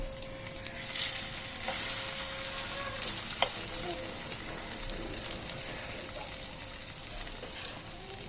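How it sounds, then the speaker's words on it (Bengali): Milk-, sugar- and egg-soaked buttered bread slices fry over medium flame in a pan, giving a steady close sizzle with faint crackles and one sharp tap partway through. "ওটাকে এইভাবে ভালো করে ভেজে নেওয়ার পর"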